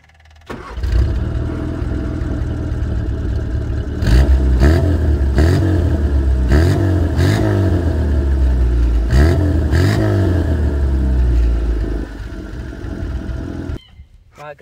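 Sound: classic Mini car engine starting and revving

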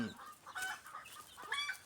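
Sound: hen clucking

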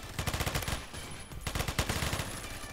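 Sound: gunfire from a gun in the video game Phantom Forces

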